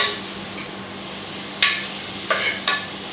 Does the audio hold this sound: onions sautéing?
yes